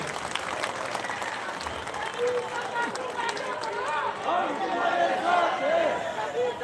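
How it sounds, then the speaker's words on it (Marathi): A crowd at an election campaign rally claps steadily, a dense patter of applause close by, with voices calling out beneath it. "सर्वांनी टाळ्या वाजून त्यांच्या ठिकाणी त्यांना शुभेच्छा द्यायच्या"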